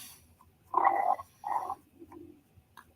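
Stomach rumbling gurgles up close in two short, fairly loud bursts, followed by a few fainter grumbles in an otherwise quiet room.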